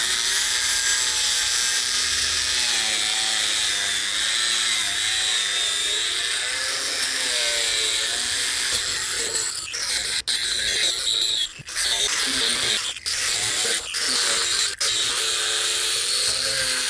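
A power tool whines steadily as it cuts open the top of a fiberglass lift muffler from a sailboat's exhaust system, a loud sustained grinding tone with a few sharp breaks and clacks near the end.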